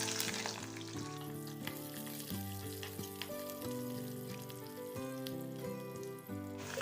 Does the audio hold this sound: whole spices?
yes